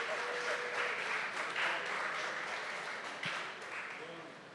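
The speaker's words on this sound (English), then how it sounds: "if you could stand up so that we can give you a round of applause" Audience applause for panelists at a festival panel, a steady wash of many hands clapping at moderate distance, fairly soft and tapering off gradually, with faint voices underneath.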